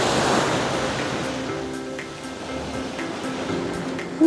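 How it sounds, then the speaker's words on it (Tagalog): Ocean surf breaks on a beach in a broad, continuous roar of rushing water, loud and close, swelling early and then washing steadily with faint wind, while a voice calls out briefly at the end. "Grabe guys, solid yung alon."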